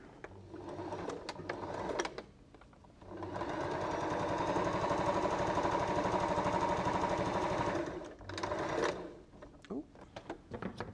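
A sewing machine stitches down a long fabric edge in one continuous buzzing run of about five seconds, close and loud, with someone speaking and handling fabric before and after.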